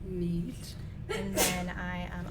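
A single short sneeze bursts out from an audience member in a craft studio, close and fairly loud, cutting in between stretches of conversational speech.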